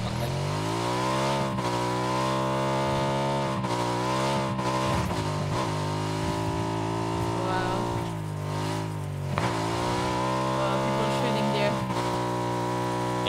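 Motorbike engine from a video game battle royale match, a steady droning whine with rising and falling revs, loud and continuous throughout, with players talking over it.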